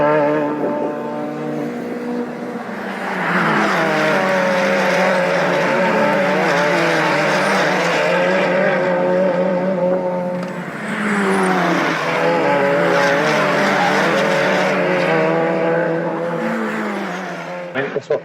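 Caterham race car engines roar past in two long waves at Croft circuit, rising and falling as they pass close by, with a continuous loud motor drone between.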